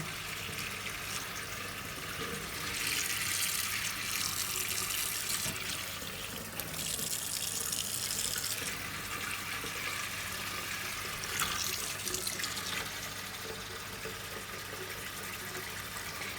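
Cold tap water runs steadily into a sink, a continuous hissing splash that swells slightly at moments, close by with no voices.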